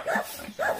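A dog on a rural Philippine property gives two short barks about half a second apart, fairly close and moderately loud, with no talk over it.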